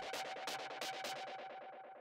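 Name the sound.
white noise made with operators synth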